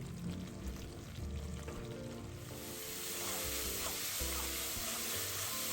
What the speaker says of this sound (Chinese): 油热后再将预先备好的姜葱蒜泥倒入低火爆香